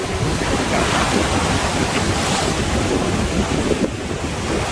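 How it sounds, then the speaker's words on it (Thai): Sea waves surge against the shore at high tide at the Pranburi river mouth in Thailand, a loud, continuous wash of surf with heavy wind buffeting the microphone and no talking. "คลื่นซัด"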